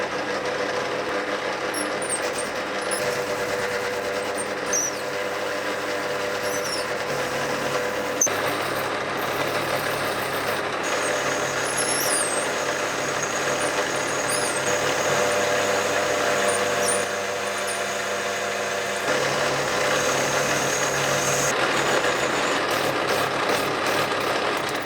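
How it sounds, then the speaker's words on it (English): A metal lathe turns down a flange on the end of a pulley part for a milling machine gearing upgrade, giving a steady, continuous machine hum and whine with faint high squeaks and no pauses. "With it now in the lathe and centered, I'll now turn down a flange on the end."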